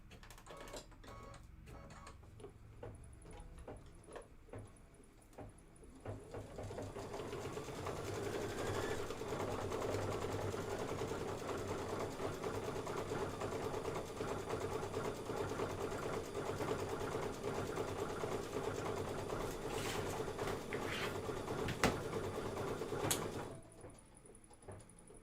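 An embroidery machine stitches applique with a steady, fast mechanical whir and needle chatter that runs continuously for most of the stretch before stopping.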